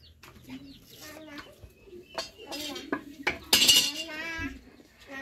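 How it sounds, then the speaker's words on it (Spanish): Mango being sliced by hand with a knife in a home kitchen while making mango preserves, with scraping taps and clinks of utensils and dishes, rising to a louder clatter near the end. "En la mano aquí estoy rebanando el mango."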